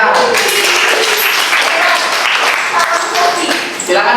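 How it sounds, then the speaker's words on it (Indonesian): Applause from a classroom audience during a student teaching session, as a student is welcomed to present first; a steady, dense wash of clapping fills the clip with faint voices mixed in. "Tepuk tangan untuk Raihan."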